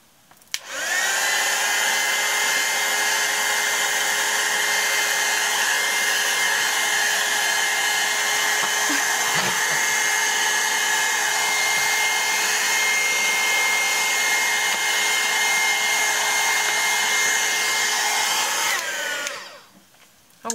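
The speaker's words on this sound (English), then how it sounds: "Dryer, heat gun, there you go." A hair dryer drying watercolor paint runs steadily for about eighteen seconds, a loud constant whirring blow that switches on abruptly and cuts off near the end.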